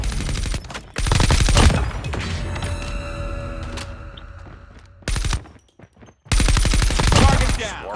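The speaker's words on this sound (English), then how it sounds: "Sentry gun deployed. Enemy in sight." Rapid automatic bursts from a deployed sentry gun in a video game firefight, loud and near, coming in several sharp clusters separated by quieter moments with ringing tones and a game voice.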